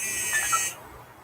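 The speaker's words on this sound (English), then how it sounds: "It's just an alarm that I set." An alarm set to go off sounds a piercing, steady electronic buzzer tone for about three-quarters of a second, then cuts out, leaving quiet room tone.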